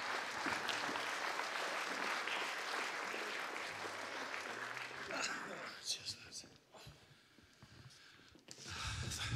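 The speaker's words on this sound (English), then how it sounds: "a round of applause for Nigel Martin" A concert audience applauds with broad, sustained clapping that fades out midway, leaving scattered claps and murmurs before a fresh burst of clapping at the end.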